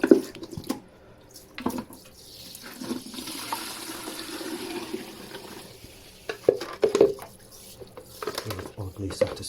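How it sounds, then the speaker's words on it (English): Pottery tools are rinsed under a running tap in a studio sink, water splashing and trickling steadily with clinks and knocks of the tools, close by, and brief voices now and then. "the washing up bit"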